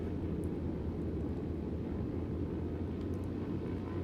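Engine drone of the AzurPoly Socata TB-30 aircraft in MSFS 2020, a steady, fairly quiet low hum and rumble that holds constant throughout without breaks.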